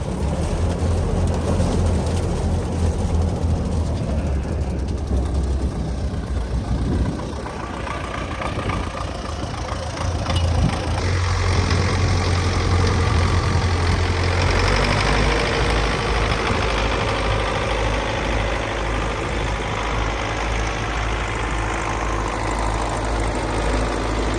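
A forage harvester chopping corn for silage with freshly sharpened knives roars steadily with a heavy engine drone and dense mechanical rumble, loud and continuous throughout, the tone rising slightly as it works through the crop.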